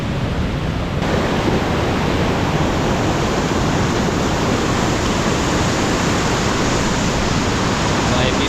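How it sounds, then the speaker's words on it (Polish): A waterfall in Mexico roars as a dense, steady rush of water, loud and unbroken throughout with no voices. "oczywiście wodospad, ale trochę tłumnie się tam zrobiło"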